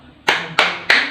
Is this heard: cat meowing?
no